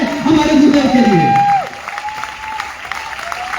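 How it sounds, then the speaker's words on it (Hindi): Audience at a motivational speech event claps for a teacher, a short dense burst of applause with a sung tone over it that fades after about a second and a half, leaving a lingering held note. "एक शानदार ताली होना चाहिए हमारे गुरुदेव के लिए"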